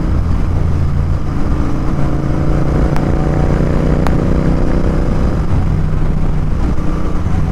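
Royal Enfield Continental GT650 twin with a Red Rooster performance exhaust, a loud, close, continuous deep rumbling roar that holds steady throughout, heard alone.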